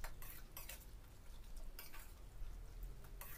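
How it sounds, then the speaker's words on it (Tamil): Cooked pasta is gently mixed in a pan of white sauce, with soft, faint scraping and stirring strokes of a utensil in quick bursts and a low sizzle, no talk. "சேர்த்துட்டு நல்லா ஜென்டலாக மிக்ஸ் பண்ணி விட்டுக்கலாம்."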